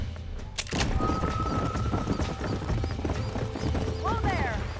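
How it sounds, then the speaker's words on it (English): Horses clip-clop steadily in Red Dead Redemption, with hooves and a whinny-like call in the mix, heard alongside a game soundtrack and nearby voices. "These are fine horses."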